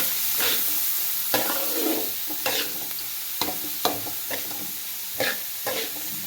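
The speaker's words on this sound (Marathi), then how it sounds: "कांदा पण आपल्याला चांगला परतवून घ्यायचा आहे बघा." Finely chopped onion sautéing in a pan for Mumbai-style pav bhaji, a steady sizzle broken by repeated scraping stirs every second or so, close and alone.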